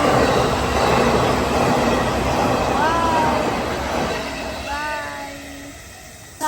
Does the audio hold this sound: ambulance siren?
no